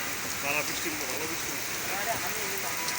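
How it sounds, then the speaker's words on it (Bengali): Rain dripping and pattering off a tin roof, a dense steady hiss of falling drops with a faint voice speaking in the background throughout. "কিভাবে বৃষ্টি পড়ে টপ টপ করে টিনের তাল থেকে বৃষ্টি পড়তেছে"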